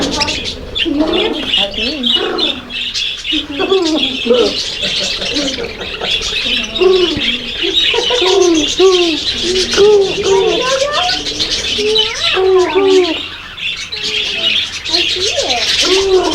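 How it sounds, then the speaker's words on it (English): Pigeons coo repeatedly, soft rolling calls recurring throughout on a farm with llamas, close and fairly loud, with people chatting over the cooing. "I hear the pigeons cooing over here."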